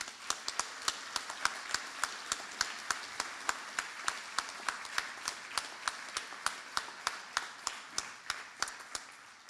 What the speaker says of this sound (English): I wonder if you'll join me in clapping hands and commending them for all that they have done to you.